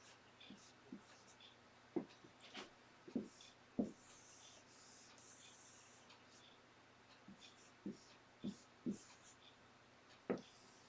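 A pen marks paper in short scratchy strokes, quiet and close, in scattered bursts of varying length over a soft room hum.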